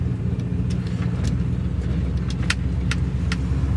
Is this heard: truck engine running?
yes